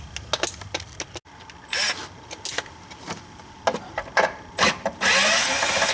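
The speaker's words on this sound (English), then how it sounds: "So I'm gonna go ahead and take these two 10s off next." A hand ratchet works loose 10mm nuts on a BMW 3 Series during a washer pump replacement, with bursts of rapid clicking and metallic rattles, some longer ratchet runs and a final harsh burst, close up with no talking.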